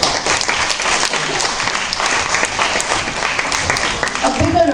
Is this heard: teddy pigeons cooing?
no